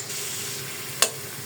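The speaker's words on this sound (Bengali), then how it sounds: "পেঁয়াজটা ভাজা হোক।" Onions frying in a pan give off a steady, faint, close sizzle, broken by one brief sharp clatter or stir about a second in.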